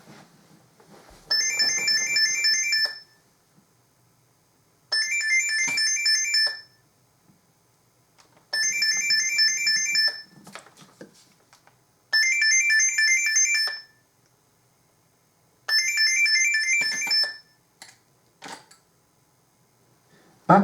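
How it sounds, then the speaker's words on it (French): A phone ringtone plays five times in regular bursts of about two seconds each, separated by short pauses, clear and fairly close with no talking over it. "désolé pour la sonnerie finale du téléphone"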